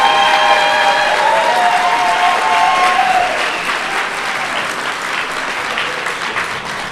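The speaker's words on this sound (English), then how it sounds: "Let's give everybody a round of applause." An audience at a GED and HiSET graduation ceremony applauds the graduates, a dense, sustained clapping from a large crowd that tapers slightly toward the end.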